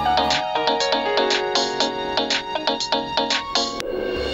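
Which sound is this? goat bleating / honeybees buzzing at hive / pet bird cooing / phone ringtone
phone ringtone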